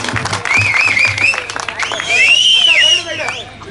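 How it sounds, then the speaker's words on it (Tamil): Steady applause from a crowd fills the whole stretch, loud and close, with a few whoops and voices mixed in. "அவர்களுக்கு ஒரு கைதட்டு கொடுப்போம்"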